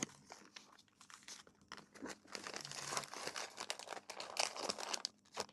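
Crinkling plastic or paper of a gift bag being opened, with a smaller bag inside holding a Diwali card and dried fruits and nuts; irregular bursts of crackling and rustling, close and moderately loud, with no speech.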